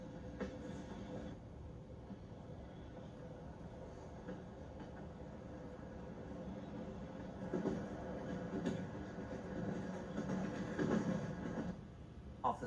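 The Glacier Express, a heavy rack and pinion train gripping a toothed centre rail in the Swiss mountains, rumbles steadily with a continuous low rolling drone and faint mechanical clatter, swelling slightly louder toward the end.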